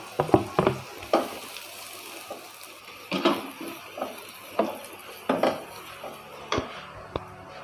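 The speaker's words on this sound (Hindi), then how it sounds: "पैन के अंदर शामिल किए 2 टेबल स्पून ऑयल। इसी के अंदर हम बारीक बंद गोभी शामिल कर देंगे।" Finely chopped cabbage fries in two tablespoons of oil in a pan, a soft crackle and sizzle punctuated by irregular clacks of a spoon or spatula against the pan, fairly close, with no one speaking.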